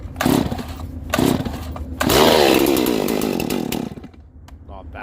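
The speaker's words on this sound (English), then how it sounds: "See how many pulls it takes for this new top end to fire up." A Stihl MS260 chainsaw with a freshly ported top end is pull-started with the choke on, two short pull bursts followed by the engine catching and revving loudly, then settling before dropping off.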